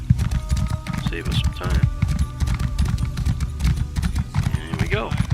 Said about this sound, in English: so I'm gonna ride my horse over there